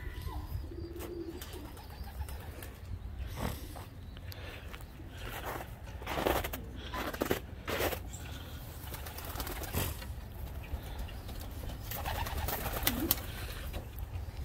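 Pigeons in a backyard breeding loft coo softly and steadily, with occasional wing flaps and faint movement noises nearby.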